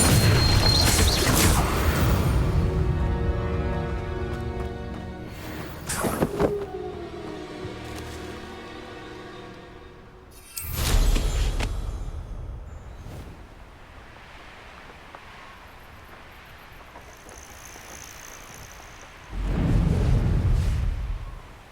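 In Hogwarts Legacy on Nintendo Switch, Confringo explosive spells go off as three loud, deep booming blasts spread across the stretch, each fading into quieter rumbling and faint background tones.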